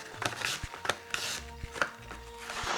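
A knife slices apples on a cutting board for an Italian apple cake, producing a handful of crisp, irregular cuts and board taps at close range with no voices.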